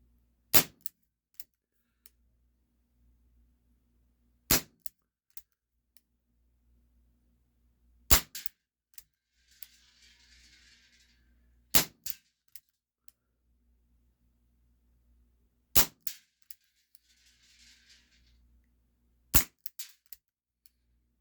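A Walther CP88 CO2-powered .177 air pistol fires single-action shots at paper targets. Each shot is a sharp, close crack, repeated several seconds apart in a quiet setting, with faint mechanical clicks between them.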